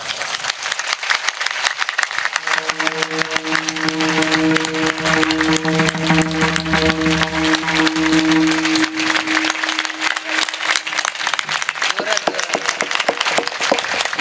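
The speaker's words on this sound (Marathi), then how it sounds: "एकदा मोठ्यानं एकदा टाळ्यांचा कळकळाट करा" Audience at a kirtan clapping loudly and continuously in dense, fast applause, with a sustained tonal drone rising beneath it for several seconds in the middle.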